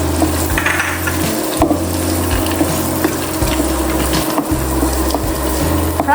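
Almonds, cashews and raisins fry in a pan over low to medium heat with a continuous sizzle, stirring scrapes and clinks, over a steady low mechanical hum that shifts in pitch.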